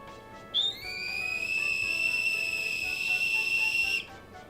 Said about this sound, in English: It's a whistle, so I'm gonna blow it now.